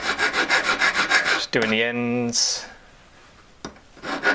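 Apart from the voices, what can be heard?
hand file filing a ring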